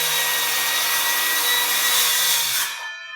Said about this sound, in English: we will scribe that through nearly all the way with our saw.